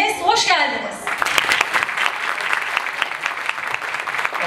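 An audience applauds at a Teachers' Day program in a hall, dense clapping that begins after a brief spoken phrase and continues steadily to the end.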